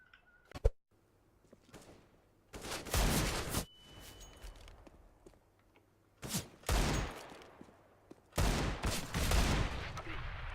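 Gunfire in the video game Counter-Strike: Global Offensive, with three loud bursts of rapid shots separated by quieter stretches and a sharp single shot near the start.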